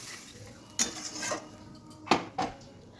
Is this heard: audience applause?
no